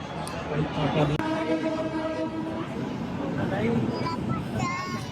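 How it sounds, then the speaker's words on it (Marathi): A train pulls into a station platform with a low rumble and squealing tones, while people and children chatter nearby under the noise. "ट्रेन आली."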